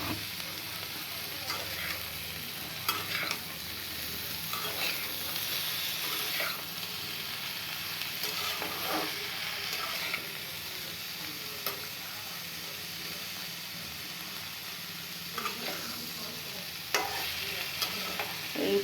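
Tomatoes fry in a pan while being stirred, a steady close sizzle running throughout with occasional scraping of the utensil and brief splashy bursts, no talking over it.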